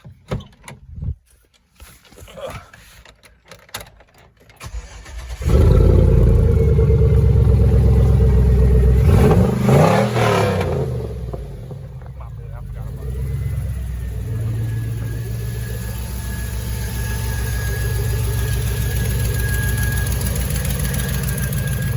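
A few quiet clicks, then the old engine of a Chevrolet Tahoe cranks and roars to life loudly, revving up and settling into a deep, rumbling idle.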